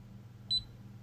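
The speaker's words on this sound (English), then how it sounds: "then the multimeter beeps after some time to remind you that you" A single short high-pitched electronic beep from a GVDA GD128 digital multimeter set to amps, a double-pulsed chirp, sounds once over a quiet low hum.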